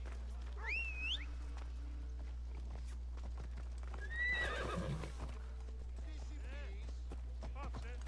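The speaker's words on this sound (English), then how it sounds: "Look out, everyone. I'm on my horse." Hooves clip-clop in a steady gait alongside a horse's whinny or two in the video game Assassin's Creed Odyssey, with quiet talking and a low constant hum underneath.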